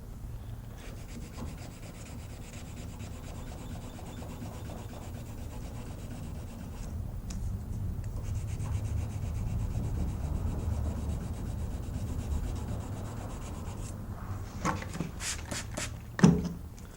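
Hand sanding along a steel knife blade makes steady, continuous scraping and rubbing strokes, close and fairly quiet, ending in a few sharper scrapes and a brief knock.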